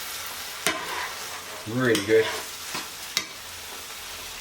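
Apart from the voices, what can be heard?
stirring pasta into tomato sauce in pan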